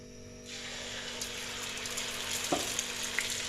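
Fermented batter for Ponnani-style mutta pathiri hits a hot pan and begins sizzling, a steady bright frying hiss that swells after the first moment and continues with small pops.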